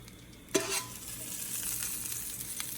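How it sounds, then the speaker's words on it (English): A spoon clunks against a pot of Southern-style oxtail ingredients, then a soft, steady sizzle and stirring follow. The sound is close but fairly quiet, and no one speaks. "So you add this in the pot. Give it a nice little stir."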